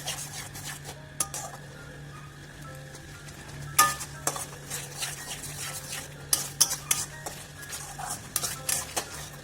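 Chicken keema mince simmering with yogurt masala in a pan, stirred with a utensil that scrapes and clinks against the metal at irregular intervals over a steady low sizzle, close and fairly quiet.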